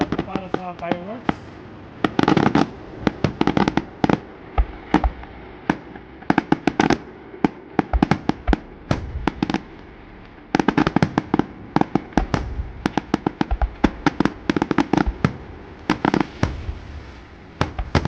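Fireworks burst again and again on Canada Day, sharp cracks and booms in dense irregular volleys with short gaps between them, loud and fairly near, and a voice talks briefly near the start.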